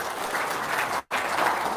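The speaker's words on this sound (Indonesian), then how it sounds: "Tepuk tangan dulu dong" Audience clapping steadily at a talk, broken by a short near-silent gap midway before resuming at similar loudness.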